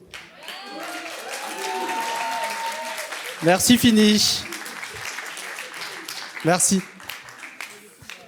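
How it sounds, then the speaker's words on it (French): Festival film audience clapping steadily in the background while a presenter speaks over it, with louder voiced bursts breaking through midway. "J'aimerais bien vous applaudir pour Finish,"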